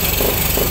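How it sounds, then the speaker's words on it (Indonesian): Yamaha Vega motorcycle engine with a fault that makes it run roughly when revved high, heard as a short, loud, close buzzing burst with uneven surges. "tapi pada saat di gas RPM di atas dia tidak normal."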